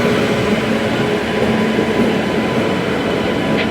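Steady rumble and rattle from inside a moving Darjeeling Mail passenger train travelling from Sealdah toward New Jalpaiguri, continuous and fairly loud with no talk.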